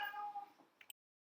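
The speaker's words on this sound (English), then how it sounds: "please excuse the fact that my cat is meowing in the background" A cat meows faintly in the background of a quiet indoor room, one drawn-out call that fades, followed by a couple of small clicks before silence.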